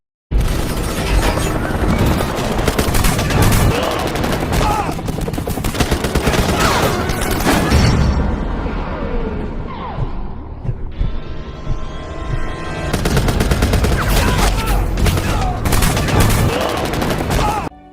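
Dense, loud bursts of gunfire from guards shooting at a helicopter crackle almost continuously, briefly easing mid-way before resuming with heavy booms and the helicopter's roar underneath.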